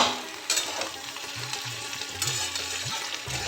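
Mixed vegetables for a spice-free labra sizzle steadily in a hot pan, with occasional scraping and stirring clatter close by, and no voices.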